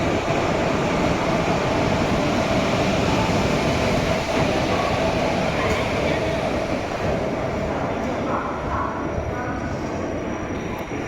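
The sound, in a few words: train arriving at station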